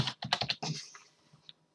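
A short burst of typing on a computer keyboard, a quick run of close, crisp key clicks followed by a couple of fainter taps.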